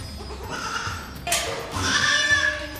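Dairy goats bleating on a goat farm, several wavering cries overlapping close by, with the second half louder and more crowded than the first, over steady farmyard background noise.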